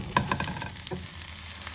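Marinated soybean chunks and paneer go into a hot pan and sizzle steadily, with stirring scrapes and taps close by and no voices.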